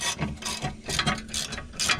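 A ratchet tightens a stabilizer link on a Mercedes W140 with a steady run of close, rapid clicking strokes in short rhythmic bursts.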